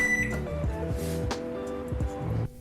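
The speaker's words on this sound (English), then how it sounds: "They let me use their microwave for this." A microwave oven runs with a steady electrical hum and a few clunks and clicks, then stops abruptly just before the end.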